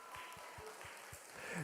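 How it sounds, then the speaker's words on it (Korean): Faint, sustained clapping from a college and young adults church congregation giving glory to God, a soft, even wash of applause across the hall. "준혁이를 준혁이 되게 하신 하나님께도 영광의 박수."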